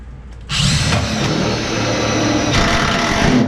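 A power driver whirs steadily while driving screws into a steel toe pan on a 1977 Pontiac Trans Am body, a loud, close, continuous buzz with a brief dip before rising again.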